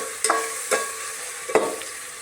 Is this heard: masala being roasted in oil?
yes